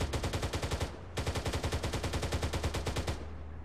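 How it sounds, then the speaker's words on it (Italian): Rapid automatic gunfire while shooting enemies in the video game Arma 3, loud continuous bursts with a short pause, close and sustained. "Spara gli operatori"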